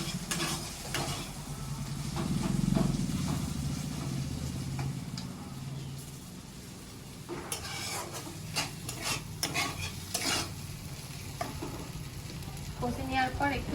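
Stone-ground spice paste with chilli and turmeric, for a country chicken curry, is sautéed in a pan under a soft sizzle. A spoon scrapes and knocks the pan, growing busier toward the end, with a low rumble in the background.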